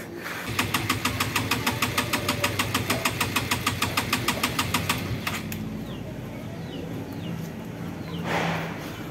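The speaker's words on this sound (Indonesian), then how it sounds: "Motornya nggak mau nyala, kayaknya ada permasalahan di vakumnya" Honda Supra X 125 motorcycle with a bored-out engine and a standard carburetor failing to start: a fast, even series of repeated kick or starter cranking pulses for about five seconds, then it stops, followed by faint background sounds.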